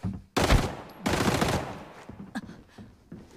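Gunfire in a shooter video game: two loud, close, sharp bursts of shots in quick succession, followed by fainter scattered reports and small clanks as things settle.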